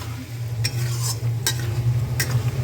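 Spices frying with tomato and green chilies in a pan for a fish curry with cauliflower and potato, a low steady sizzle under three sharp metallic spoon scrapes against the pan.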